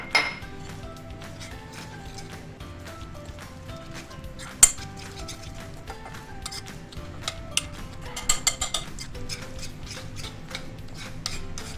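A metal spoon stirs chicken tandoori marinade in a bowl, giving repeated clinks and scrapes with a few sharper knocks against the rim, steady and close over some background music.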